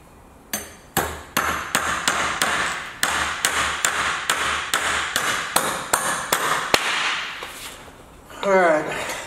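Hammer blows driving an anchor bolt: about fifteen sharp, evenly spaced metallic strikes, loud and close, each ringing briefly, with a short burst of voice at the end.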